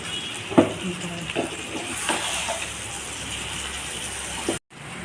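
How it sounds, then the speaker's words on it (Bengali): Potato, gourd stems and ridge gourd fry with masala in a pan, a low sizzle under occasional soft spoon scrapes, and the sound cuts out abruptly near the end. "আলু লাউ ডাঁটা আর ঝিঙা এগুলো দিয়ে আস্তে আস্তে করে নেড়ে ভালো করে কষিয়ে"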